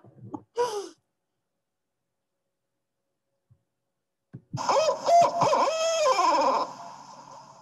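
Recorded owl hoots from barred and spotted owls play back: a short call, a long silence, then a louder, wavering, harmonic hooting phrase lasting about two seconds before it fades.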